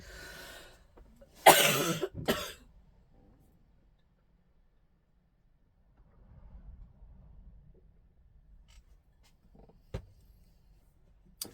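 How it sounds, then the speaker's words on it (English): One harsh burst of coughing sounds close by, then a long quiet stretch with faint rustling and a single soft knock. "Still coughing. Feel much better, but this cough will not go away."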